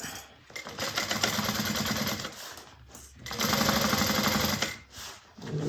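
Sewing machine back stitching over a bag connector, two sustained runs of fast mechanical stitching, close and steady, separated by a brief pause as the direction reverses.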